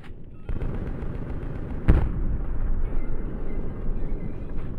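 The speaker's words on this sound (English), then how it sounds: "I love shooting people through the wall" Gunfire in Call of Duty Black Ops 2, with one sharp loud shot standing out over a dense, continuous rumble of distant battle noise.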